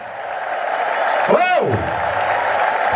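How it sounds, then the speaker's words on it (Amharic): Church congregation in Nazreth ululating, clapping and cheering, a loud swell of applause and high voices, with a shrill ululating trill rising and falling at its peak. "እልልታ፣ ጭብጨባ፣ ሆታ"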